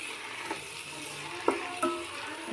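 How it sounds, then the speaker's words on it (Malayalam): Tomatoes cooking in a pan for dum biryani, a quiet low sizzle with a few soft knocks of a spoon being stirred through. "ഇത് നല്ലോണം അങ്ങോട്ട് ഇളക്കി കൊടുക്കാം."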